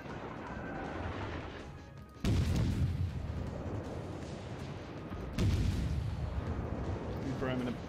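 Naval guns firing in World of Warships: two deep, booming salvos a few seconds apart over a continuous rumbling battle ambience, with a voice talking underneath.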